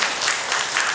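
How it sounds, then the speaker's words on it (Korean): Audience at a Seoul art auction in summer 2014 applauds after a lot is sold: a brief burst of dense, noisy clapping from a roomful of people, filling the whole second evenly. "박수 한번 주시죠."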